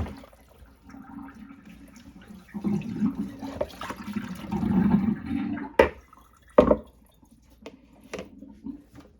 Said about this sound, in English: Now, this goes down the sink.